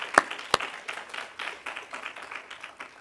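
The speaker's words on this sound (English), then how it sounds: "So join me in a round of applause for Lindsay Naylor." A modest symposium audience applauds at a food-themed keynote, opening with two sharp, close claps before settling into scattered, light clapping that gradually tapers off.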